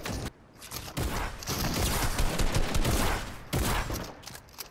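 Gunfire in the video game Fortnite, with dense bursts of rapid shots over roughly four seconds, loud and close, broken by short gaps near the start and end.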